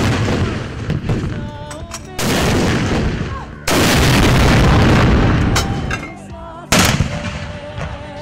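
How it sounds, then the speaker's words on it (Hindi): Pakistan Army artillery fires a 21-gun salute for Independence Day at a sports complex parade ground, heavy booming blasts arriving one after another with long rumbling decays, loud and close. "स्पोर्ट्स कॉम्प्लेक्स परेड ग्राउंड में 21 तोपों की सलामी दी गई।"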